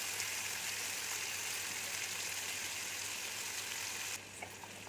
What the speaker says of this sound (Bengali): তার মধ্যে দিয়ে দিয়েছি সাদা তেল, আর পনিরগুলোকে ফ্রাই করে নেব হালকা মতো।